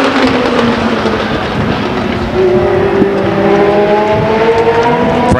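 Race cars roar around the Stockton 99 Speedway oval, loud layered engine whines rising and falling in pitch as several cars pass close in a tight pack.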